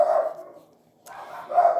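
Dogs bark indoors in two loud, close bursts separated by a short quiet gap, with no talking.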